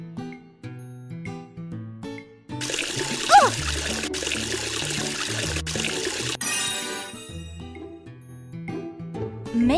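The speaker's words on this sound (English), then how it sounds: "Help wash their faces with water." Water splashes and trickles over cartoon faces in a kids' face-washing video game, a bright burst of running water lasting a few seconds over cheerful background music, cut by short clicks.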